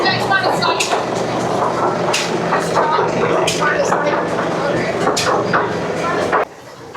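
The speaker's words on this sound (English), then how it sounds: "It's got a jack shaft there. And it's running across here, running the grinder and the press." An antique jack shaft running across an old grain mill drives a grinder and press, producing a busy rhythmic clatter and knocking with faint voices in the background, ending abruptly.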